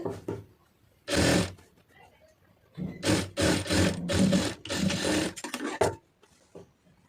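A sewing machine stitches a blouse sleeve in short loud whirring bursts, one near the start and then several back-to-back runs, close up, separated by quiet pauses with a little rustling.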